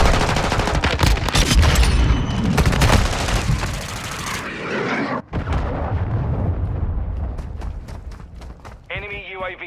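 Dense, loud combat barrage in a war film: rapid automatic gunfire and heavy blasts fill the first half, then sporadic shots continue amid chaotic battle noise, ending with a rising whine.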